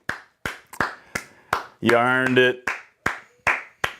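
Michigan fans clap in steady, sharp single claps, close and loud, about two per second, with a brief stretch of spoken voice breaking in midway.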